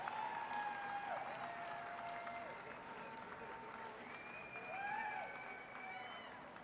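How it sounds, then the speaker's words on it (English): An audience at a military Warrior Games powerlifting event gives a steady round of applause for the women's medalists, a soft, distant wash of clapping with faint tones and murmurs beneath it. "How about a big round of applause for the women's medalists?"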